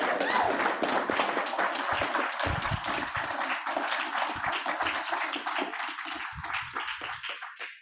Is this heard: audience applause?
yes